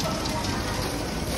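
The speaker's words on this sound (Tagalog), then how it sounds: "At naubutan ng ulan." Rain pours down outdoors on a day out in Bangkok, a dense, steady hiss of drops hitting surfaces that stays even and close throughout.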